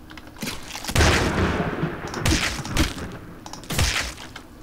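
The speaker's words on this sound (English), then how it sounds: "Thunderbolt." Thunderbolt spell cast repeatedly in the dungeon game Legend of Grimrock: three sharp, crackling electric blasts arrive about a second apart, each a loud broadband burst that fades into rumbling decay, with no talking over them.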